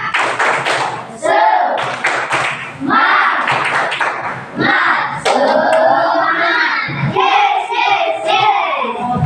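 A classroom of students performs the tepuk semangat clapping chant in unison with their teacher, loud rhythmic clap patterns alternating with shouted group chanting and brief pauses between phrases.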